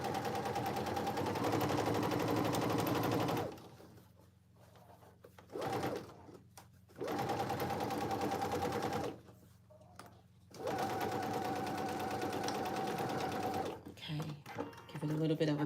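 A sewing machine stitches a fabric gusset pocket for cargo pants in three bursts of rapid, even whirring, separated by quiet pauses while the fabric is turned, close and clear.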